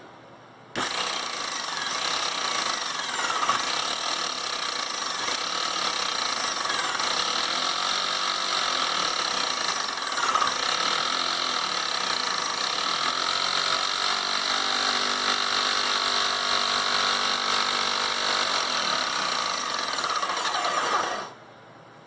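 A Graco X5 airless paint sprayer runs steadily with the trigger pulled, a constant close mechanical whine and pump buzz that starts abruptly and stops cleanly after about twenty seconds.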